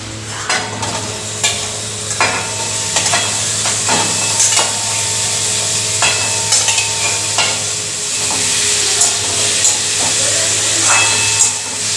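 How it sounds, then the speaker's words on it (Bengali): Mutton going into a pan of sautéed spice paste, with steady stirring and a continuous sizzling fry, close and fairly loud, punctuated by scraping clicks of the spoon. "মশলাটা কষানো হয়ে গেছে এখন মাংসটা দিয়ে দেবো"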